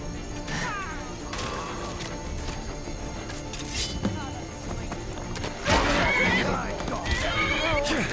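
A horse neighs in the video game The Mortal Blade, with whinnies and snorts over clip-clop hooves and thuds, growing louder and more agitated toward the end as a voice talks over part of it.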